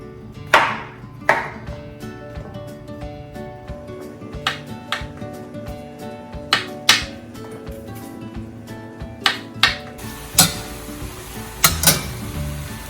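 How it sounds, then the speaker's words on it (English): A knife chops mushrooms on a board in sharp, irregular knocks, about a dozen close cuts spaced out over a quiet kitchen background. "I'm almost done cutting up the mushrooms"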